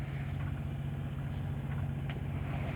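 Boat engine on a sailing yacht, running at about 1800 revs at just over 7 knots, giving a steady low throbbing drone that holds constant, moderately near, with no talk.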